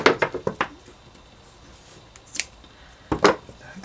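Scissors snip red paracord on a survival bracelet: a rapid run of four or five close, sharp snips, then two more isolated cuts after pauses, with no talk.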